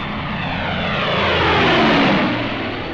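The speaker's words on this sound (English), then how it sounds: "our planes took off to tackle the Luftwaffe" Propeller warplanes take off during the WWII North African campaign, a loud, dense engine roar swelling as they pass close and then easing slightly, with no voices.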